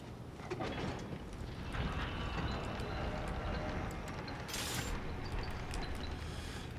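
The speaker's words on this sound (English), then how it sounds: "It's one of those double-sided elevators that you can always use." Double-sided elevator rising in the video game Elden Ring: a continuous low mechanical rumble with creaking, grinding gear and chain noise throughout, with a brief brighter hiss near the end, fairly loud and steady.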